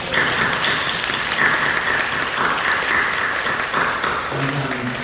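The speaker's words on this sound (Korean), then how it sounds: "우리 감사와 영광의 박수를 드리겠습니다." A church congregation applauds during a worship service, a full, even wash of clapping from many people, with a voice beginning to speak over it near the end.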